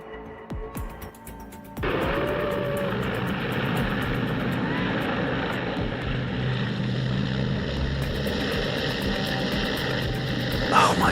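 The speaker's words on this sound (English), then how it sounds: "The jet hits the desert strip, but in seconds, balance is lost." A jet aircraft crash landing on a desert strip gives a steady, loud roar of engine and rushing noise that holds for about nine seconds after a brief lead-in, swelling slightly at the end.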